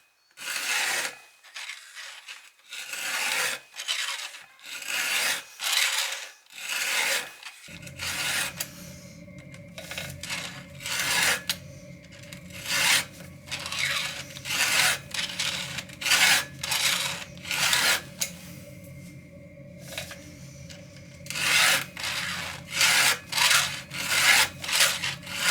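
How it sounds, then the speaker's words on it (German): A Pferd file tool sharpens the chain teeth of a Stihl MS 261 chainsaw by hand. It makes a loud, close rhythm of rasping strokes, each one paired and repeated steadily, with a faint background hum joining partway through and no talking. "Beim Feilen achte ich immer darauf, dass ich in der Vorwärtsbewegung Druck ausübe und in der Rückwärtsbewegung es nur entlang gleiten lasse"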